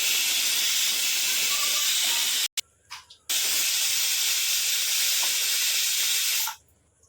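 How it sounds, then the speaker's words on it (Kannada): A pressure cooker whistle blasts as a long, loud, steady hiss while cooking veg biryani, cuts off briefly with a few sputters, then resumes before fading away. "ಕುಕ್ಕರ್ ಲಿಡ್ನ ಕ್ಲೋಸ್ ಮಾಡಿ ಒಂದು ಎರಡು ವಿಷಲ್ ಕೂಗಿಸ್ಕೊಳ್ಳೋಣ"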